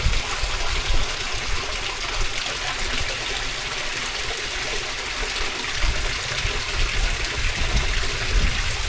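Water runs through a stone and sand filter into a small garden pond beside a staircase, making a steady, close, continuous rushing flow with no voices.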